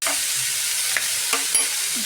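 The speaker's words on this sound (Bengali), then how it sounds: "এবার একটু ভাজা হবে" Vegetables such as beans, carrot and cauliflower sizzle in a pan for fried rice while a spatula scrapes and stirs them in a few distinct strokes, close and steady, with no talking.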